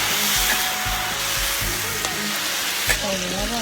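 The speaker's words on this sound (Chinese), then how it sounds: "土豆子在下面呢，煎一下" Small potatoes pan-frying in oil in a home kitchen, a loud continuous sizzle and crackle with soft stirring knocks, and a faint voice now and then underneath.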